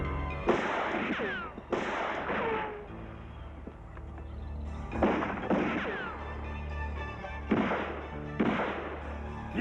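Gunfire in a French film, a series of sharp, echoing shots in separate bursts spread across the scene, moderately loud with a rumbling background between them.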